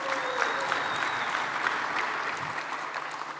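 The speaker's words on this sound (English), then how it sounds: "Give a round of applause for them all making it." An audience at a photography panel discussion applauds the guests, a continuous even wash of clapping from a crowd in a room, steady throughout.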